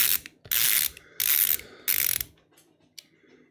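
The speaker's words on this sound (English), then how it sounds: "I've got to take these screws out" Screws being backed out of a device's back plate with a ratcheting screwdriver, three loud bursts of rapid clicking close up, separated by short pauses and a few faint taps, with no talking.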